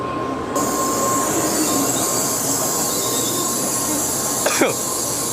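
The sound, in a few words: bullet train arriving at station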